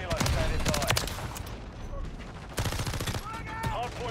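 Bursts of automatic SMG fire in Call of Duty MW3, rapid loud volleys in two clusters with a brief lull between, with a voice talking over parts of it.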